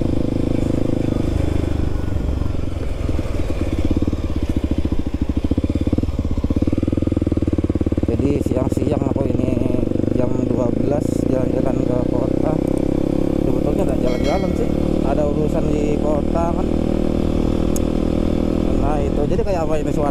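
Kawasaki D-Tracker 250 dual-sport motorcycle ridden toward town, its single-cylinder engine and exhaust droning continuously with wind rush, recorded from the rider's helmet with the mic set somewhat far, while the rider talks throughout.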